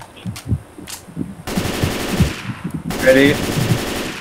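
Automatic M16 rifle fire in Left 4 Dead 2 crackles in two rapid, loud bursts, each lasting over a second, after a brief spoken word and a few scattered earlier shots.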